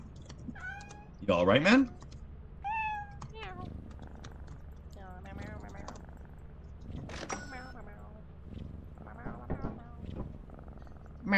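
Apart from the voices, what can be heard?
cat meowing in the video game Lethal Company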